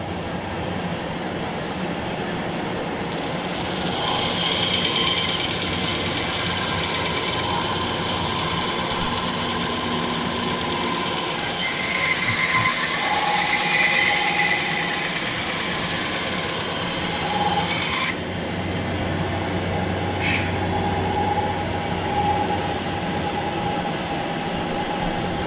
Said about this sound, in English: I probably use the bandsaw the most for this very purpose.